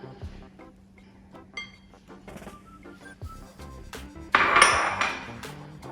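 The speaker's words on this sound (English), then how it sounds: "And mix this up until we have a dough." Spoon scraping and clinking around a bowl while egg, pumpkin, oat flour and cinnamon are stirred into dog treat dough, scattered light taps and knocks growing into a louder, busier scraping near the end.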